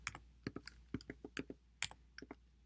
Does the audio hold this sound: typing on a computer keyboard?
yes